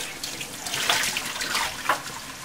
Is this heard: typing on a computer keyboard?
no